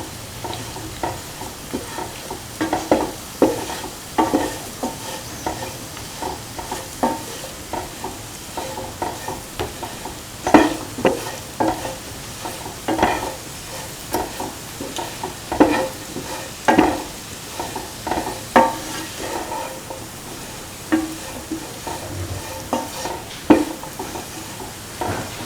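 Food being mixed in a frying pan, steady sizzling with repeated scraping and stirring strokes of a utensil, loud and close throughout.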